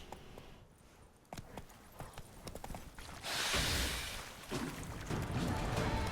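Horse hooves in The Witcher 3: Blood and Wine clip-clop steadily at a walking pace, followed by a louder rushing wash of noise partway through, with no one speaking.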